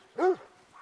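A single short dog bark rings out in theHunter: Call of the Wild, fairly faint and close, followed by a soft trailing whimper in a quiet game scene.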